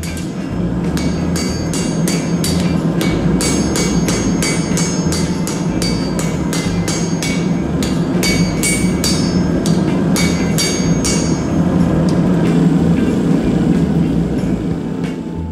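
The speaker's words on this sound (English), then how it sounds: "I'm just removing a little more meat with our hot cutoff" Rapid, ringing hammer blows strike a hot steel knife blade on a hot cut hardy at a blacksmith's anvil, a loud, dense run of metallic hits over steady forge roar.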